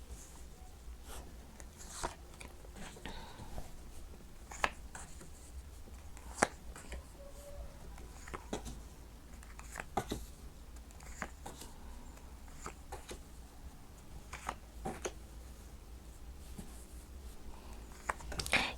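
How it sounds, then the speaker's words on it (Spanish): Tarot cards are drawn and laid down one after another on a table, giving soft, scattered taps and slides that sound quiet and close with no voices over them. "Sacaré todas las cartas primero."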